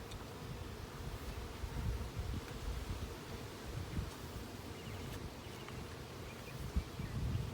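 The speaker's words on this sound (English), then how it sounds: "There's probably a couple of dozen bees up here in the tree" A swarm of honeybees in a cedar tree makes a faint, steady buzzing hum, heard from some distance amid light rustling and breeze, without any voices.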